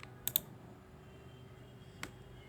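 Two quick mouse clicks close together, followed by a single faint click about two seconds later, sharp and close against a quiet room hum with no voices.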